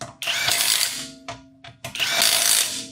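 An impact gun removes tightly fastened bolts on a budget rebuild car, with loud close rattling bursts, a short one in the middle between two longer hammering runs and brief gaps in between.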